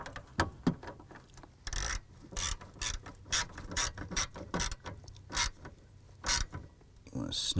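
A hand ratchet tightens screws on the ignition switch actuator of a 1993-1997 Ford Ranger, sounding in close, crisp bursts of clicking with short pauses between strokes.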